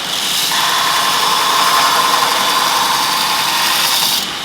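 A Robert Sorby Pro Edge belt sharpener runs while grinding a round nose woodturning scraper, giving a steady loud whirring hiss for about four seconds before it eases off.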